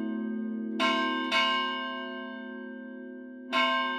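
Church bells of Santo Adrião ring out clearly, three strong strikes with long, shimmering resonant decays that hang in the air between them, with no voices present.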